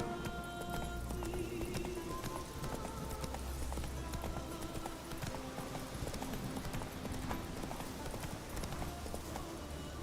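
Roach, the horse in The Witcher 3, galloping in the Deadmarch area with a steady rapid clip-clop of hooves, continuous and prominent throughout.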